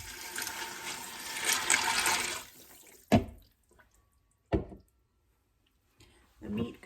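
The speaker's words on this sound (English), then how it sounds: "And then 3 cups of water." Three cups of water poured into an Instant Pot over penne pasta, a steady splashing pour for about three seconds, followed by a few short, sharp knocks and clatters in an otherwise quiet kitchen.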